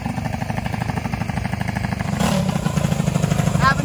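Small mini bike engines run with a steady, rapid putter close by, the tone rising into a louder rev partway through as kids ride at a mini bike gathering.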